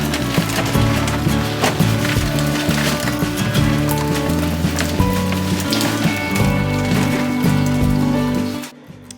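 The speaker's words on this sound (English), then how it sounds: "the rain is not letting up, so I'm getting absolutely soaked doing this" Steady heavy rain falling outdoors on a wet Sunday while recycling is taken out, a dense constant patter close by with mixed knocks and thuds, running continuously before cutting off at the end.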